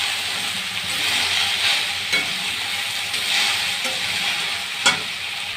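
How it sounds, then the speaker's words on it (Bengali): Jute leaves hiss and sizzle in hot oil in a pan, a loud, close, continuous frying with scraping stirs and a few sharp clatters, and no voice. "দুটোই দিয়ে দিলাম তেলের মধ্যে ছেড়ে। এখন শাকটা ছেড়ে দিব ভাজা ভাজা করে।"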